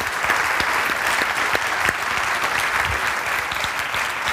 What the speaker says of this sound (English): A big round of applause for Dino.